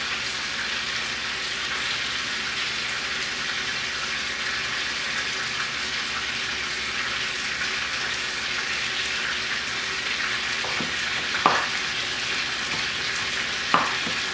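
Eight slices of diced bacon fry in a pan with a steady, even crackling sizzle throughout and a couple of brief clatters near the end, with no voices.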